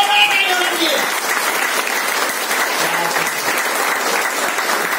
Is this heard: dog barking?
no